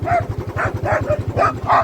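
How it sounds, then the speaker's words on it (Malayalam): A chained Kombai dog barks repeatedly in quick, loud bursts nearby, against a steady low hum. "നല്ല കോമ്പ പട്ടി പൂട്ടിയിട്ടേക്കുണ്ട്"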